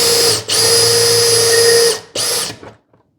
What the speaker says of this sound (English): And then you just drill the hole down to the stop.